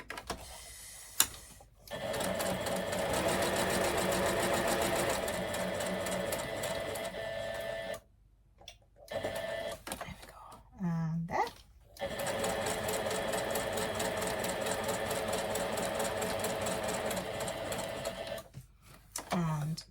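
A sewing machine stitching fabric for a Christmas gift card holder runs in steady, rapid mechanical bursts, stopping briefly for short pauses and backstitches before resuming, close and fairly loud.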